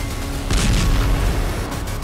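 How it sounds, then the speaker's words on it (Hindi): A single deep missile explosion boom used as a dramatic sound effect in a breaking news report about an Iranian missile strike on Israel, loud and rumbling with a short decay. "क्या इजराइल पर फिर फटने जा रही है ईरान की मिसाइल?"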